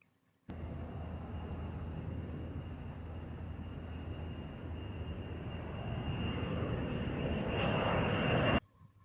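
Airplane engine roar, a steady loud jet-like whoosh that swells toward the end before cutting off abruptly, with no voices.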